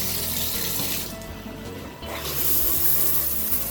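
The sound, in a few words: water flowing from a plastic shower head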